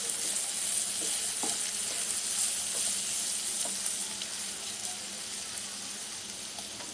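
Carrots, peas and other vegetables for pulao sauté in a pan, producing a steady, dense sizzle with faint stirring clicks, easing slightly toward the end.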